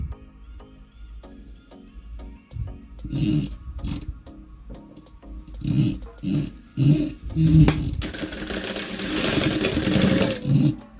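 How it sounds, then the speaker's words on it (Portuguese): A sewing machine stitches the inside seam of a fabric finish in short motor bursts with pauses between them, the last few seconds louder and more continuous. "E agora a gente vai costurar a parte de dentro."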